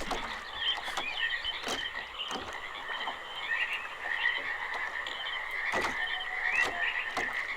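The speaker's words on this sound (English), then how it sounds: "Oh, frog!" A frog croaks in a repeated, scratchy pattern in the realMyst game world, fairly loud over quiet ambient background, with no talking.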